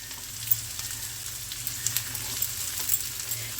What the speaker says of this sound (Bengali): পেঁয়াজটা হালকা সতে হয়ে যাক, কাঁচা লঙ্কা আদা এটাও দিয়ে দিলাম, মটরশুঁটিটাও দিয়ে দিচ্ছি।